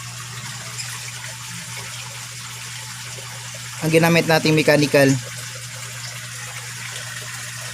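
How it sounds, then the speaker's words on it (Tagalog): A steady low mechanical hum from a water pump running a DIY pond filter built from an old fridge, with a light trickle of water throughout, briefly interrupted by a short burst of talking in the middle. "At ngayon, i-on ko na po muna itong pump. Ito yung ating DIY pond filter."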